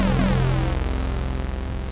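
Synthesizer tone with its timbre parameter swept by a motion sensor, a steady harmonic-rich drone whose upper overtones shift and thin out over about two seconds, heard alone at an even level.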